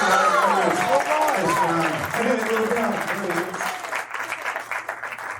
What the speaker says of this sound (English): How about a big round of applause for all of our student athletes.